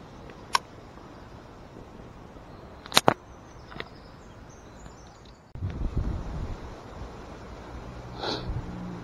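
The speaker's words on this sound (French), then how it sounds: "Le vent s'est vraiment levé" Wind rises partway through and settles into a steady outdoor rush, after a few sharp sniffs and clicks, with a brief high chirp near the end.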